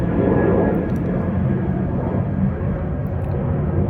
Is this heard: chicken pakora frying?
no